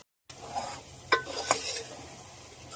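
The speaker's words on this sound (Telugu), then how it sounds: "ఉల్లిపాయలు మెత్తగా గ్రైండ్ చేసేయాలి, వేసేసి ఫ్రై చేసేసుకోవడమే." Ground onion paste fries in oil for a chicken curry, a soft steady sizzle broken by a couple of sharp spoon scrapes and knocks against the pan.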